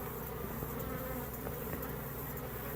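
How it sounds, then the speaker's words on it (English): Bees swarm around a hive nuc on a farm, a dense, continuous close-up buzz with no pauses. "A bee just headbutted me, guys."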